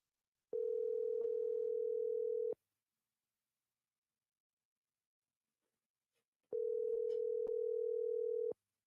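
Telephone ringback tone on a call line: two steady, moderately loud tones of about two seconds each, separated by a roughly four-second silent gap.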